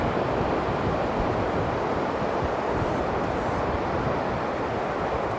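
Steady, loud roar of wind and surf with constant broadband noise and no distinct breaking waves or voices.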